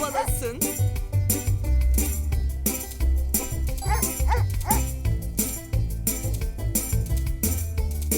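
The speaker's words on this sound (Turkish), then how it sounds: "Köpek Lucky'nin havuçları korumasına yardım et." Cartoonish dog barks and yips from a video game's dog character pop up repeatedly over a loud, busy animal-care game music track with a steady bass beat.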